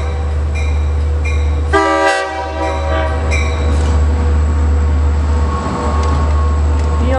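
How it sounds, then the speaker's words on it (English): A DM30AC diesel locomotive leading a Cannonball train rumbles past steadily with a long low drone, punctuated by a couple of loud horn blasts early on. "DM30 AC 505 leading train 2798 to Cannonball"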